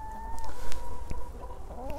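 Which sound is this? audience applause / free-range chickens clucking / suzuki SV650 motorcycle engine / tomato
free-range chickens clucking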